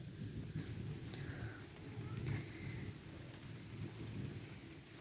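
A thunderstorm just as rain begins, with a steady low rumble of thunder and rain hiss throughout, fairly faint and with no talking.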